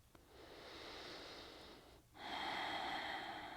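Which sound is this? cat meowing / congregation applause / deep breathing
deep breathing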